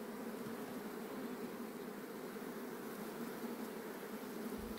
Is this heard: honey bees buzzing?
yes